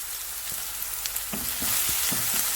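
Crushed onion, garlic and a dried red chilli sautéing in a pan for a green gram stir fry: a steady close sizzle with a few stirring knocks, growing slightly louder midway.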